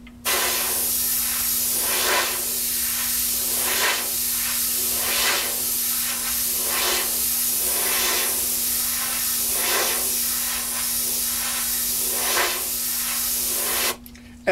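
An airbrush hisses continuously while spraying detailed stripes of paint onto Kawasaki and Bimota motorcycle bodywork, with a steady tone and soft rhythmic pulses of spray, close and alone.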